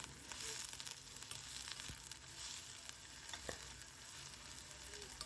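Brinjal thokku with slit green chillies sautéing in a pan, a steady close sizzle with scattered crackles and the occasional scrape of stirring, heard alone with no voices.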